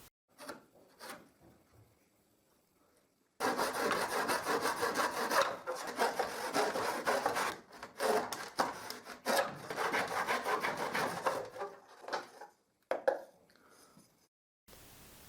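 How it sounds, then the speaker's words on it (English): A handsaw cutting through plywood while making a cheap moxon vice, a long run of steady rasping back-and-forth strokes after a few quiet handling knocks, then tapering into scattered taps at the end, no talking. "I cut the piece of plywood, and I use it as a template to cut another one."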